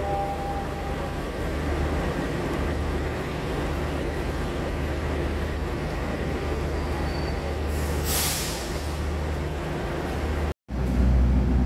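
The Argo Wilis stainless steel passenger train sits at a station platform with a steady, loud rumble of idling train equipment, a brief hiss of air near the end and a sudden cut before the hum resumes.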